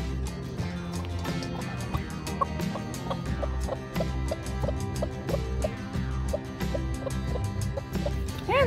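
Several backyard chickens, a broody hen among them, cluck and squawk continuously in a busy overlapping chorus, close and lively, with soft rustling underneath.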